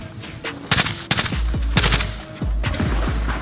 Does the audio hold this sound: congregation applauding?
no